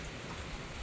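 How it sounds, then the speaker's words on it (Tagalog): Heavy, nonstop rain pouring down in a steady dense hiss, loud and close with no other sounds. "Grabe ang ulan mga palangga, walang tigil."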